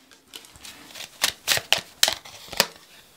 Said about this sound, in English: This is just way too many, so I need to get another shuffle.